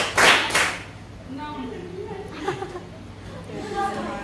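A group of Indonesian teacher-training participants in a classroom claps a short patterned sequence, with a loud burst of claps at the start that gives way to chatter and an instructor's voice calling out the pattern.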